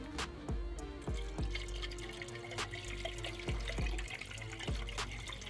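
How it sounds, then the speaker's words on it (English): Distilled water from a gallon jug pours into the expansion tank of a BMW E46 with a quiet continuous trickle, broken by glugs and splashy bubbling as the jug vents. "I'm just going to start pouring in the gallon of distilled water"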